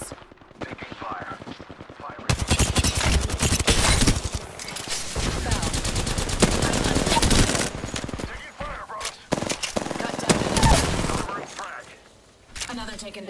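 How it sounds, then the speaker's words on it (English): Automatic weapon fire in the video game Apex Legends, loud sustained bursts with brief pauses between volleys, mixed with game voice lines calling out enemies and status. "Enemy close. Taking fire."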